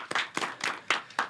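An audience claps after a question during a talk-show interview, bursts of applause rising and falling in quick uneven waves for a moment, with no voices over it.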